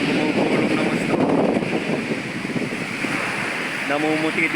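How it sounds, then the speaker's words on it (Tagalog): Large Pacific Ocean waves roll and break on a rocky beach, a loud, continuous roar of surf with gusts of wind across the microphone, and a brief voice speaks near the end. "Ayan na, napakalalaki yan. Napakalalaki alon yan."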